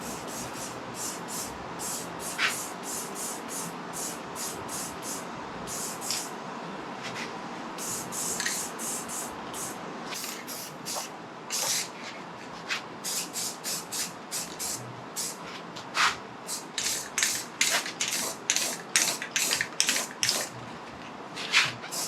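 Satin paint sprayed onto a gauge pod for a 1934 Ford panel truck, soft hiss with a run of short spray bursts growing more frequent toward the end.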